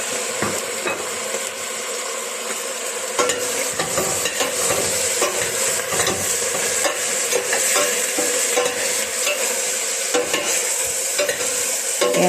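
Onions and meat sizzle in a hot pan for a Filipino-style mulukhiyah dish, with steady frying hiss under repeated scraping and clinking of a utensil stirring against the metal pan, close and fairly loud, no talking.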